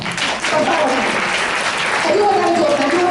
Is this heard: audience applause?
yes